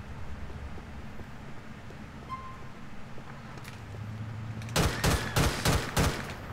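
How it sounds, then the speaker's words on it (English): A burst of rapid gunshots rings out in GTA LCPDFR police patrol gameplay, about six sharp cracks fired in quick succession near the end, following a stretch of steady engine and ambient rumble. "Shots fired."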